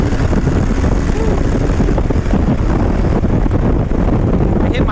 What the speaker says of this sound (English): I hit my rev limiter on that one.